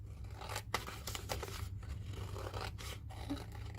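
Scissors cut through paper while trimming an accordion box craft, with a few short rasping snips and slides close by over a steady low background hum.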